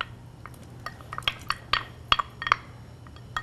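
Fresh Maine blueberries tumble into a pot with sugar and port, giving a scattered series of light clinks and taps against the metal, quiet and close with irregular timing.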